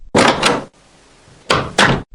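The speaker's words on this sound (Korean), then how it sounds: "탁은 고개를 들고 사무실 문을 열었다." An office door opens with two sharp bursts of handling noise, a quiet pause, then two more clatters close by.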